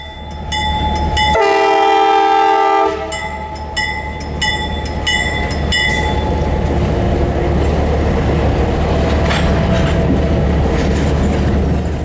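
Carolina Coastal Railway Train 120 rumbles loudly close by as its locomotive horn sounds a long blast followed by a series of shorter blasts, then the steady roll and clatter of rail cars continues.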